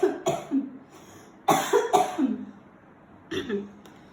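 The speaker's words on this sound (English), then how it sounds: "this is not that kind of a cough" A person coughs in several short bursts, a couple of dry hacks at a time with pauses between, close to the listener.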